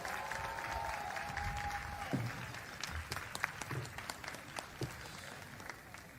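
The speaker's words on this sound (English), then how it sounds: "let's give them a round of applause if you guys can stand so that we can recognize you" Audience applause at the Howard University 2026 graduation ceremony, a dense, sustained wash of clapping from a large crowd that holds steady, with sharper individual claps standing out near the end.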